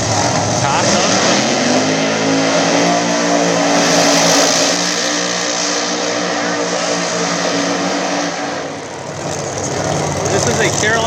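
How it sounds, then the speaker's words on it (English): Pro Mod Camaro drag cars with screw blowers, a newer body style against an old style, roar loud and sustained as they race down the strip, with a commentator talking over the engine noise. "Newer body style Camaro screw blower. Taking on the old style Camaro with Ty Tutterow with the screw blower."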